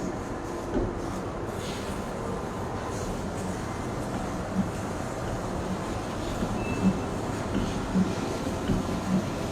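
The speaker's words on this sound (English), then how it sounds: "this machine used to process the gear used in the gearbox" Gear machining machine running in a valve factory, cutting gears for gearboxes, a steady dense mechanical rumble and whir with occasional faint clicks, continuous and fairly loud.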